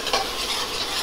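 Masala frying in oil while being stirred, a short burst of dense sizzle with a light scrape near the start, close by, no talking.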